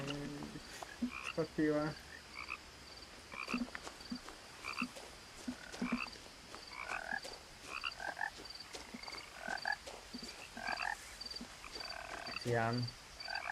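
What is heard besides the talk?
frogs croaking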